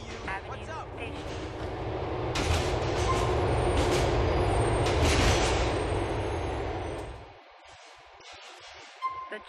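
The C train in Grand Theft Auto IV's Liberty City rumbles along with a loud, steady rolling roar and some rail clatter. An announcement voice speaks over it. The noise drops off abruptly near the end, leaving quieter cabin sounds.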